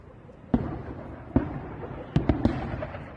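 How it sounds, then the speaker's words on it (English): An incendiary munition is dropped on Volodar at night, heard as five sharp, distant pops spaced irregularly over a few seconds, against a faint background hiss. "we also get to see an incendiary being thrown at Volodar by the Russians tonight"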